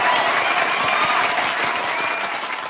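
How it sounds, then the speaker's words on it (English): An audience applauds an award winner at a cultural celebration finale, a dense, lively burst of many hands clapping that stays loud throughout and eases slightly toward the end. "Heartiest applause for Santosh."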